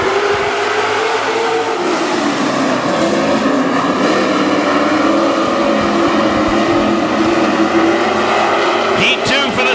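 WISSOTA Super Stock race cars start a race at Granite City Speedway with a loud, sustained, droning roar of many engines at full throttle. An announcer talks over the engine noise.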